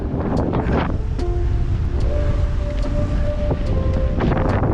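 Strong wind on the Taal loop buffets the microphone with a constant roaring rumble, and a faint tonal whine is heard briefly beneath the gusts.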